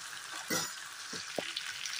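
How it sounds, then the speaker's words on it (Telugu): Potatoes fry in oil in a pan for a potato-peanut fry, a steady broadband sizzle with a few soft stirring scrapes and clicks, moderately quiet and without voices. "ఇది ఇలా వేగుతున్నప్పుడు ఒక 1/2 స్పూన్ పసుపు,"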